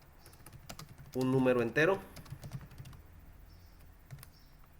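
Computer keyboard typing during a Python coding session in Google Colab, a quick run of soft, close key clicks with someone speaking briefly over the middle.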